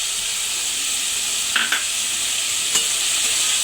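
Tomato puree being stirred into softened frying vegetables for pav bhaji: a close, continuous sizzle with a few short scraping strokes of the spoon, no talk.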